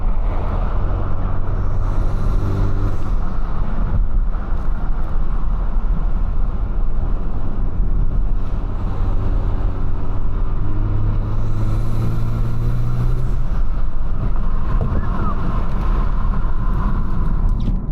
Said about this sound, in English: I'll try and let you guys hear some of the induction noise.